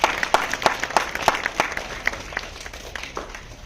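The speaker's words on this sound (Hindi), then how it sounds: "2-3-4 बार तालियां बजाइए।" Audience members clapping at an event, a handful of sharp, separate claps ringing out early and then thinning into scattered, quieter claps as the noise fades.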